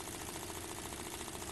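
A small engine drives a generator built from a PC case fan, running close and steady with a rapid, even throb and no voices over it.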